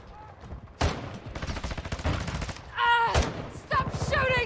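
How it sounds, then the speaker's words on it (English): Rapid bursts of heavy pistol fire from akimbo .50 GS Desert Eagles in a Call of Duty: Modern Warfare 2 multiplayer match, loud and close, with several volleys separated by short gaps and game voice callouts. "Stop shooting me!"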